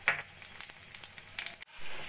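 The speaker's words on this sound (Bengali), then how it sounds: "ওই তেলের মধ্যেই দিয়ে দেবো আমি কালো জিরে ফোড়ন।" Nigella seeds tempering in hot oil left after frying lentil dumplings for a Bengali fish curry, giving a close, crackling sizzle with scattered pops and a brief dip near the end.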